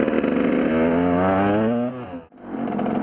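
A KTM 200 EXC enduro motorcycle's two-stroke engine revs up with a rising, buzzing whine, then cuts abruptly to near silence before picking back up at a lower idle, loud and close with no talk.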